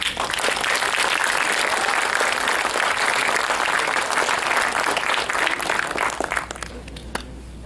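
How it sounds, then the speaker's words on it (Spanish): A church congregation claps loudly, dense applause sustained for several seconds before thinning out and fading toward the end. "Vamos a darle un fuerte aplauso a Él."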